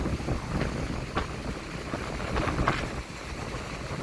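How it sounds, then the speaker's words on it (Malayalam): Strong monsoon coastal wind of about 60 km/h roaring and buffeting the microphone outdoors at a breakwater, with a broad rushing noise and a few gusty swells, no voices. "അടിപൊളി കാറ്റ് ഏകദേശം മണിക്കൂറിൽ അറുപത് സ്പീഡിൻ്റെ കാറ്റാണ് ഇപ്പോൾ വീശുന്നുള്ളത്"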